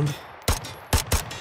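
Pistol shots in the tactical shooter Ground Branch: three sharp, close cracks fired in quick succession within about a second, loud and punchy.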